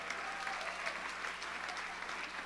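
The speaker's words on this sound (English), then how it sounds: "So please give them all a round of applause." Audience applause at a Cattle Call opening event, a steady dense wash of many hands clapping together, moderately loud and continuous throughout without a break.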